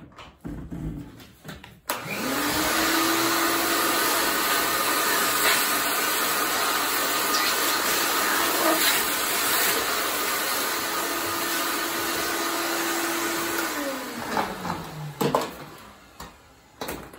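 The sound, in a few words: vacuum cleaner vacuuming debris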